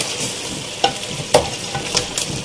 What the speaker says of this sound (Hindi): अब हम इसके अंदर अपना मटन शामिल करेंगे जो हमने फ्राई करके रखा हुआ था।